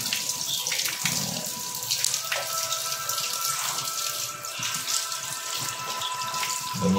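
Tap water runs in a steady, close splash at a sink while a red fish is cleaned, continuing without pause and with no voices.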